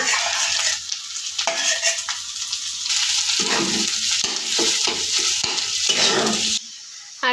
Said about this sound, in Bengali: এখন কিন্তু ম্যাশ করে রাখা আলু দিয়ে দিচ্ছে